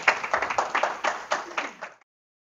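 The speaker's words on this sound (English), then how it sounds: "we will give him another round of applause" Applause from a lecture audience on ancient Greek technology, a small group clapping in distinct, fairly close claps for about two seconds before it stops abruptly.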